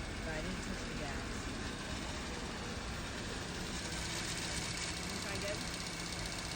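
A 2018 Kia Soul+ engine idling after a fuel injector replacement: a steady, continuous mid-range engine hum with constant broadband noise, close up, while people talk over it.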